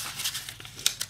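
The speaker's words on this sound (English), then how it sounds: "And fold this edge to the middle." Origami paper being folded and sharply creased by hand, giving soft close crinkles and rustles with a couple of brief crisp snaps near the end, no voices.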